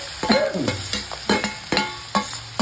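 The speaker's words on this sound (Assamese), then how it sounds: "সেই মাংসখিনি আপুনি সুদা কেৰাহীখনত দি দিয়ক" Marinated duck meat is stirred in a dry wok with no oil, giving a low sizzle broken by repeated scraping strokes of a spatula at an uneven rhythm, with no voices.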